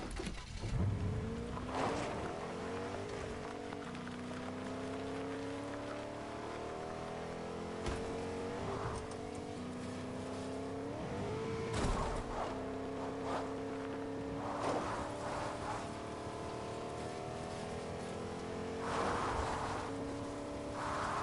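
Truck engine in a video game drives on steadily, droning and shifting pitch as it revs and changes gears, with occasional thumps and bursts over a continuous moderate hum.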